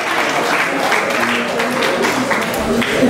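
An audience at the Caribbean Shrimp Festival launch claps steadily and densely throughout, with a voice faintly audible beneath the applause.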